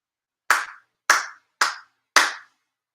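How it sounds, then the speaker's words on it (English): Four sharp ceremonial hand claps at a Konkō Shinto monthly ceremony in Chula Vista, evenly spaced about half a second apart, each crisp and close with a short decay into silence. "Chido Haide, 4 sincere claps"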